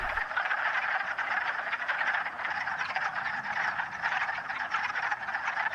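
A dense chorus of frogs clucks continuously from a pond, many overlapping calls forming a steady, loud rhythmic drone with no voices.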